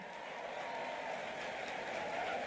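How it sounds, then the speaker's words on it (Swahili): Steady crowd applause at a public launch event for human-wildlife conflict compensation at Meru National Park in Kenya, a continuous clapping wash with no breaks. "Wapi makofi ya Deputy Governor Linda Kiome?"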